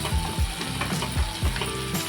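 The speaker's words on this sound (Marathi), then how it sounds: "त्याच्यात आपण टाकणार आहोत दोन मिरच्या त्यानंतर कढी आपल्या समस्त असं परतून घ्यायचं आहे" Onion, two green chillies and curry leaves sizzle steadily in a hot pan, with rhythmic scraping stirs every half second or so over the constant frying hiss.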